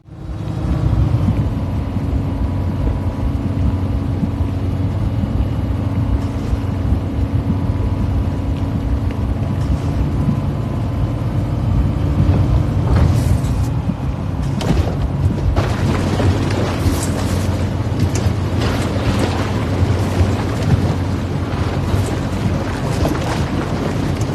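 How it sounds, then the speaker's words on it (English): Heavy truck engines from the VR off-road driving game Mudrunner VR, a steady low rumble and drone running throughout, with louder rough bursts and clunks in the second half, no talking. "This means the truck sounds are okay, but definitely on the right side of being great."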